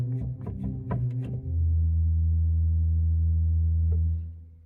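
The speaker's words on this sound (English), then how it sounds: "The last stop on the pedal organ is the open wood, the big beefy sounding one." Open wood pedal stop on the pipe organ at Bellshill Central Parish Church: a short phrase of deep notes, then one very low, beefy tone held loud for several seconds before it fades.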